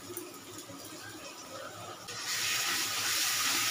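Water is poured into a cooking pan holding yogurt, a soft hiss that swells into a steady louder pour partway through, close by and with no talking.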